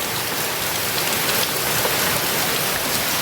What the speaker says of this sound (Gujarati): ભાઈ અત્યારે વરસાદ આવે છે ભાઈ ઉહેડી ઉહેડીને દે છે